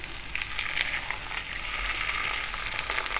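Hilsa fish pieces sizzle and crackle steadily in hot oil in a pan, a continuous close frying hiss with small bursts of spatter and no talk.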